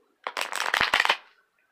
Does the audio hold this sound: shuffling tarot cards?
yes